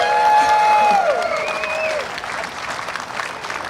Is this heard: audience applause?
yes